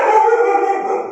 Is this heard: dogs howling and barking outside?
yes